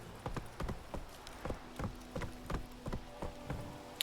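The horse Roach gallops through The Witcher game world. Rhythmic hoofbeats thud in a steady, repeating clip-clop pattern at moderate volume, with faint ambient game sound underneath.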